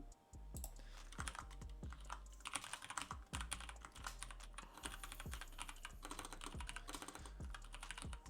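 Typing on a computer keyboard with rapid, irregular key clicks running steadily throughout, close and fairly loud over a low rhythmic background hum.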